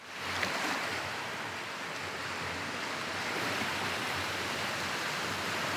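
Ocean waves wash against the shore on Jeju, a broad, steady roar of surf with no clear individual breakers, continuous and enveloping.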